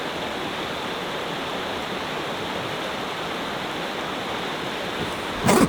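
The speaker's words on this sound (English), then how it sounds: "Made it down to the creek side" Creek water flows steadily in the bush at a fishing spot, a constant full rush of broadband noise that holds level throughout, with a brief louder splash or knock right at the end.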